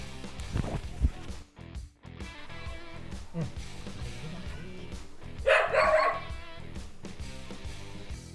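A dog barks in uneven bursts near a house, mixing sharp barks with yips and whimpers, fairly close and loud, with faint voices in the background.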